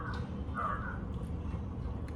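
A crow caws a few times outdoors near a home, the calls moderately close over a steady low background hum.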